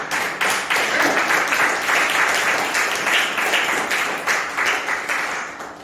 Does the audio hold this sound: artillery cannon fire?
no